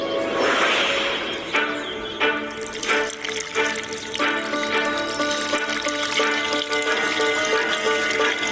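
Water pours and splashes out of a broken clay kulhad cup, a continuous close-up trickling and spilling with a few sharper splashes, heard alone without talk.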